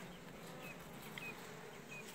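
Honeybees buzzing at an open hive during a beekeeping inspection of a four-frame support colony, a steady faint hum with a few brief higher buzzes of bees flying close by.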